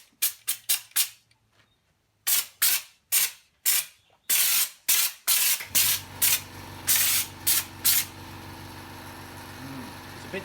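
A spray gun lays Raptor coating with thinners onto the flares of a 200 series Land Cruiser, firing in loud close hissing bursts, short ones first and then longer passes, over a low background hum.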